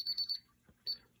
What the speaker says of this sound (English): Now it's beeping. So now the keypad is unmuted.